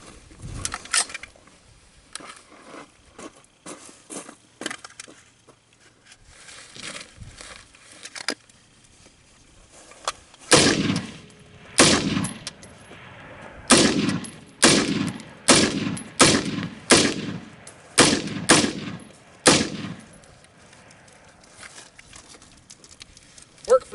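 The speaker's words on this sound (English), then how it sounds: "here's a video of 10 rounds going through this rifle with that ammunition" Ten sharp rifle shots from an SU-16A loaded with 62 grain green tip 5.56 brass ammunition, fired in a steady, evenly spaced string, each crack loud and near, after a quieter stretch of faint clicks and handling.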